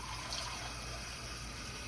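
Water runs steadily into the bottom of a roasting pan holding a honey BBQ Boston butt, a soft continuous gushing close by with no speech over it.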